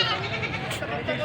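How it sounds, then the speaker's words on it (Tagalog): Goats bleating at a livestock market, a brief burst of overlapping wavering bleats from several animals amid crowd murmur. "Ang dami ng kambing din naman."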